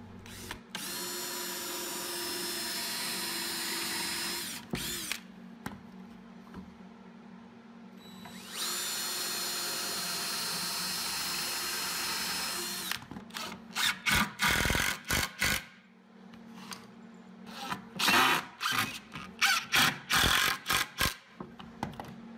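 A power drill whirs in two long steady runs pre-drilling wood, followed by a series of short, choppy bursts as screws are driven in, loud and close.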